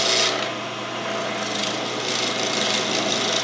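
Wood lathe turning a pen blank while the tool cuts long shavings, producing a steady, close rasping scrape over the motor's low hum, continuous and fairly loud throughout.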